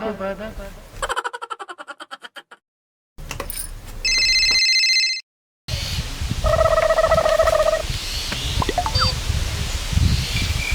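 A telephone rings in repeated electronic bursts, loud and close, between stretches of talking and background noise.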